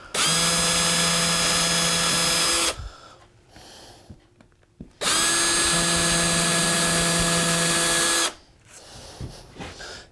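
A power drill bores holes in wood for a sign overlay in two loud bursts of whining, each nearly three seconds long, separated by quieter shuffling and handling noises.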